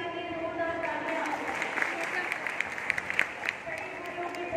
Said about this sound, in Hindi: हमारे छोटे में वेद राज के लिए जोरदार तालियां